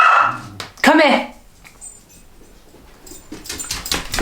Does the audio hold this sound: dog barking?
yes